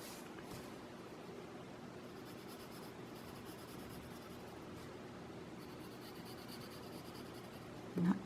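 Graphite pencil shading a zigzag backsplash pattern on paper, a steady soft scratchy rub that runs unbroken at close range, with a slight bump at the very end.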